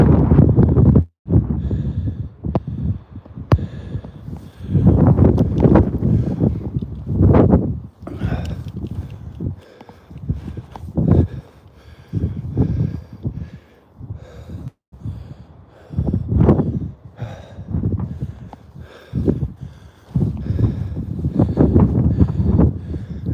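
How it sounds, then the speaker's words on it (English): Wind gusts buffet the microphone on a coastal walking path, producing low rumbling bursts that rise and fall irregularly, close and loud, with brief quieter gaps between them. "It's a bit breezy today as well though."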